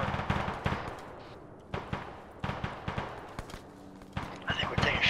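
Gunfire in Arma 3 during a 200-player PvP operation: repeated bursts of automatic shots and single cracks, sharp and fairly close, with radio chatter between players.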